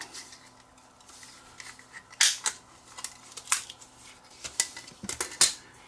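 Plastic shell of a moldy 8mm video tape being pried open, with a series of sharp, close clicks and snaps clustered in pairs over a quiet background, no talking.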